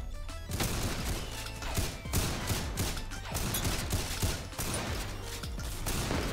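Rapid shotgun blasts from the video game Ragdoll Universe crack out in a dense, continuous barrage, loud and close, with overlapping shots and impacts filling the whole stretch.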